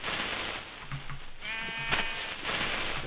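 A sheep in the Minecraft video game bleats once in the middle, a short wavering cry over a steady bed of rapid keyboard clicking, with no talking.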